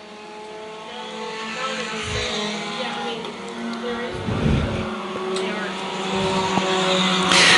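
Four-cylinder stock race cars circling Lakeside Speedway in a nationals main, a pack of engines droning and revving past at mid distance, swelling louder toward the end, with an announcer talking over the racing.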